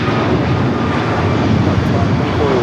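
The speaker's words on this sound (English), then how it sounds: "American Airlines 1657 taking off to Dallas, Fort Worth on the 777-200ER" An American Airlines Boeing 777-200ER taking off at Los Angeles International Airport, a steady loud broadband jet roar that holds constant throughout.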